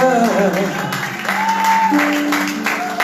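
A church congregation applauding and acclaiming the Lord, steady clapping mixed with voices and tonal sounds of singing or music throughout.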